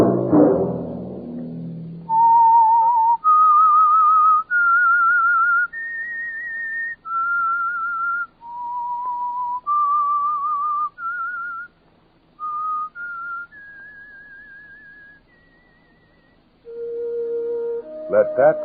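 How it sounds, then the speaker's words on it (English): A lone human whistler carries the eerie theme tune of the radio mystery show The Whistler, a slow run of sustained, wavering notes rising and falling with short gaps between them. Louder and clearer than the muffled speech that opens and closes it. "Let that whistle be your signal for the Signal Oil program, The Whistler, each Monday at 9."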